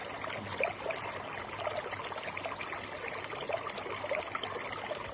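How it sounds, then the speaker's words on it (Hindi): Waterfall at Mahakal Dham in Bhutan, a steady broadband rush of falling water with continuous splashing and trickling texture, close and unbroken throughout, with no voices. "नेत्र बंद करके आप झरने की प्राकृतिक ध्वनि का आनंद लीजिए"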